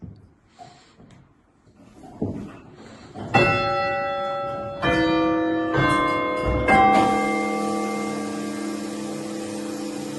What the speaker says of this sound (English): It is quite spectacular when it performs for us, when it chimes.